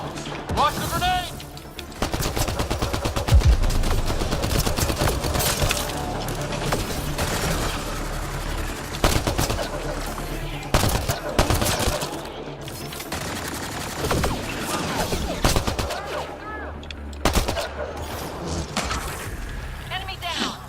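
Sustained gunfire rattles through a Mass Effect Andromeda firefight, with dense bursts of automatic fire and scattered louder shots going almost nonstop, while voices call out over the shooting.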